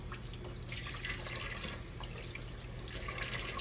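Water runs steadily from a tap into a sink while peppers are rinsed and de-seeded under the stream, giving a constant hiss with small splashes, soft and close.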